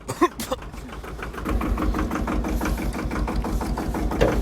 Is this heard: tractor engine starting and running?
yes